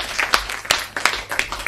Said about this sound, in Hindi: एक बार जोरदार तालियां बजाकर उन्हें आमंत्रित